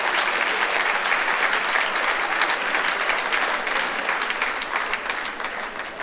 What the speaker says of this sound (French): Est-ce qu'on peut applaudir nos cheveux blancs?